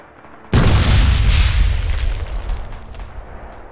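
A satchel charge blows up a bunker in the WWII game Red Orchestra 2, a sudden loud blast followed by a long rumbling roar that slowly fades.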